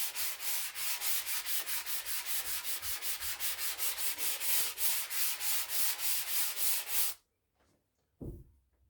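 Stained wooden door lightly hand-sanded along the grain, a steady run of rhythmic rasping strokes, close and fairly loud for about seven seconds, then stopping, followed by a brief soft knock.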